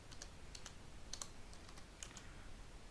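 Typing a command on a computer keyboard, a few quiet, irregular key clicks in short clusters over low room hiss, faint and close, with no speech.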